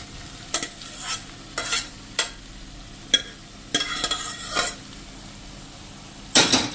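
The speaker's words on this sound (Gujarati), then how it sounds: "તો હવે લાસ્ટમાં આપણે જે કૂક કર્યા છે ને જુવાર, એને નાખી દેશું." Cooked sorghum being stirred into vegetables in a pan for sorghum pulav: a spoon scrapes and clatters against the pan in about eight short, sharp strokes with a faint sizzle beneath.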